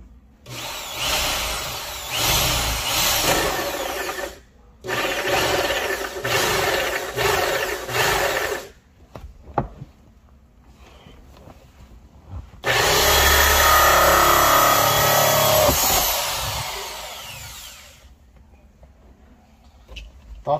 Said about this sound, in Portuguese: Então agora, vou furar,